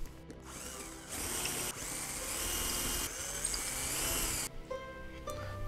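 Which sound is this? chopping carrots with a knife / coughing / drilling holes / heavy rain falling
drilling holes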